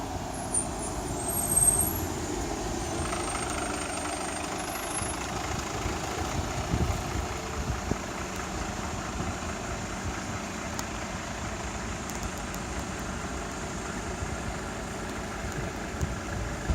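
A bus engine idles steadily in an outdoor spring setting, a continuous low rumble holding near and even throughout with slight fluctuations and no talk.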